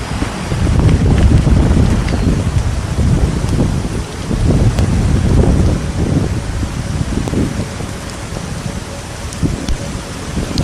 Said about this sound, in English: That rain's wet.